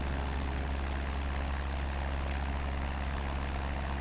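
Steady, loud droning roar of a propeller airplane at takeoff power lifting off a runway, a constant engine hum with low harmonic bands and broad airflow noise throughout, no voices.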